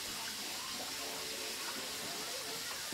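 Three cups of hot water pour steadily from a tap for a Thanksgiving dish being cooked at home, a continuous hissing splash of running water that stays even and close throughout.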